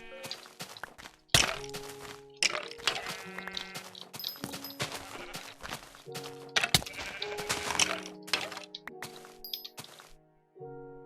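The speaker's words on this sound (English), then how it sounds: "I'm not going to complain about finding a horde of sheep" Sheep bleating in the block-building game Minecraft, several repeated bleats from a flock at close range, mixed with thunking hits and soft footsteps, alone with no talk.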